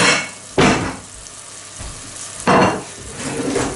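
Slices of giant puffball mushroom fry in a pan, a steady sizzle punctuated by two louder bursts of hissing as the pieces are moved or stirred, close and without talk.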